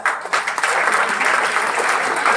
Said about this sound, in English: So please give big claps.